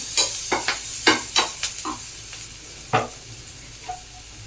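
Onion and green chilli sautéing in a pan with turmeric added, heard as a run of short scraping stirs and soft sizzling bursts, fairly close and moderately loud, with no voices.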